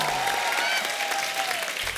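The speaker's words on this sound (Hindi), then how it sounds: "एक बार जोरदार तालियां" A studio audience at The Kapil Sharma Show bursts into loud, sustained applause, a thick wash of clapping with faint music tones underneath.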